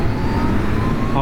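Kawasaki Ninja H2 SX SE supercharged motorcycle engine pulling in second gear around 3,000 RPM as the throttle opens, a loud, close, continuous roar in one short burst.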